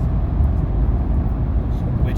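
A car cruising at about 47 miles per hour through Seattle's SR-99 tunnel, a steady, loud, low road and engine rumble filling the enclosed space, with no breaks.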